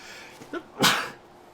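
A single sharp sneeze, close and loud, after a quick intake of breath.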